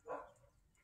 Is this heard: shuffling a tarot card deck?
no